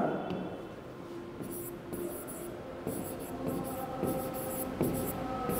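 Marker or chalk scratching across a board in a physics classroom, a run of short repeated strokes over steady room noise.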